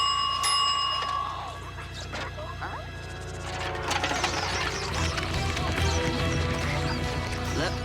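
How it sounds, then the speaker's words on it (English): A synthesized bell in a children's cartoon rings with a sharp metallic ding, then gives way to clattering mechanical ratchets and gear-like rattles that grow louder and busier, with a voice briefly heard. "I'm sure I can synthesize a bell noise."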